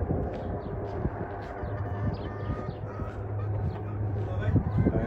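A red chicken clucks in short, uneven bursts close by, over a low background hum with faint voices mixed in.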